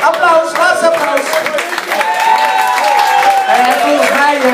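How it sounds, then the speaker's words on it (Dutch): An audience at an award ceremony during the Lindenberg Agogo festival gives a loud, sustained round of applause mixed with cheering voices, filling the whole stretch. "Applaus, laatste applaus."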